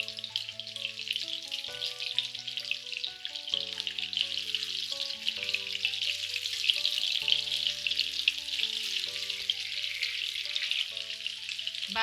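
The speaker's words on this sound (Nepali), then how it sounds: "अब यसलाई चाहिँ गोल्डन ब्राउन हुने बेलासम्म फ्राई गर्नुपर्छ।" Fish sizzles steadily in hot oil while frying until golden brown for a Nepali-style crispy fish fry. The crackle is continuous and fairly loud, with background music playing throughout.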